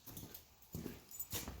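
A dog barks in a few short bursts at a moderate distance, three separate blasts spaced over a couple of seconds against a quiet outdoor background.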